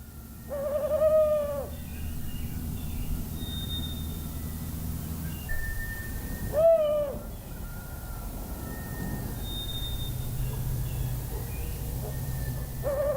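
Owl pair hooting in a night forest, with a loud descending hoot near the start, another midway and a third at the end, all over a steady low hum and faint distant tones.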